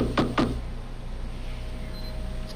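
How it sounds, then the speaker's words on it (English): In the video game Doors, two dull knocks thud on a wall in quick succession, fairly close, over a constant low background hum. "He knocking."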